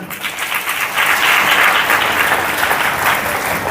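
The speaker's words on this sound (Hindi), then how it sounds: "ताली बजा के" A church congregation claps during a Hindi sermon, a loud, dense burst of applause that builds quickly and holds steady for several seconds.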